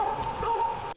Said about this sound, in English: Using firecrackers and a loudspeaker, it barks like a dog, scaring off bears seen lurking in the woods.